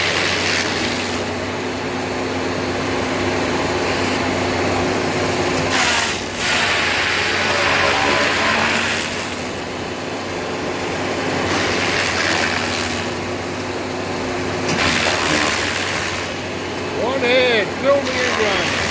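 Stump grinder chewing into a large tree stump from a tall blown-over tree, a loud continuous engine roar with grinding swells and dips, close, with brief speech near the end.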